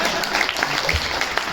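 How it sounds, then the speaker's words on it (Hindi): Steady audience applause at a Hindi comedy poetry recital (kavi sammelan) in a hotel hall in Jodhpur, continuous dense clapping throughout with no gaps. "संजय जी ने मणिका दुबे की कविताओं पर जो तालियां बजाई, 2-4 मुझे भी, मेरे लिए भी।"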